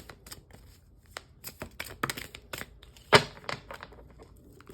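A deck of tarot cards shuffled close up, with quick runs of papery riffles and flicks, one sharp slap of cards near the end, and no talking.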